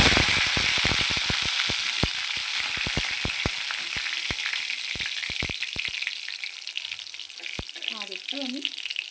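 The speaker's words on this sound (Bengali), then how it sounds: "তেলটা গরম হয়ে গেছে বন্ধুরা, দেখুন। এখন আমি এর মধ্যে দিয়ে দেবো ফোড়নের জন্য কালো জিরে" Black cumin (nigella) seeds hit hot oil for tempering in a Bengali eggplant and fenugreek-leaf dish, setting off a loud, steady sizzle and crackle with rapid popping clicks at the start that thin out over several seconds.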